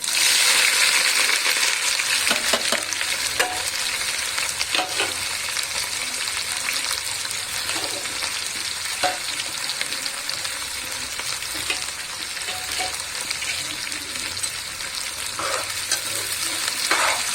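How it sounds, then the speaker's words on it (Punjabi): Onions and cumin fry in hot oil in a pan for an okra curry, a continuous loud sizzle with stirring scrapes and occasional clicks, no voices. "ਪਿਆਜ਼ ਨੂੰ ਆਪਾਂ ਜ਼ਿਆਦਾ ਤਾਂ ਨਹੀਂ ਭੁੰਨਾਂਗੇ ਸਿਰਫ ਥੋੜਾ ਜਿਹਾ ਫਰਾਈ ਕਰਾਂਗੇ"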